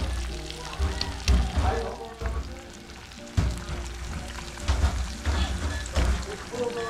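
Steady rain patters and hisses around outdoor cooking of fried fish, a dense continuous wash with a few heavier thumps and drips throughout.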